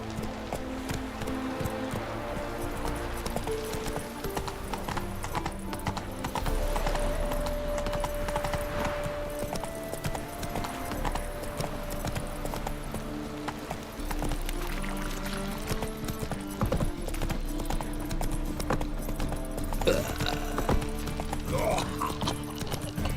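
Horse hooves clip-clop steadily through The Witcher 3 as the horse trots under continuous game music and ambient sound, the rhythmic footfalls mixed into a dense, busy soundtrack.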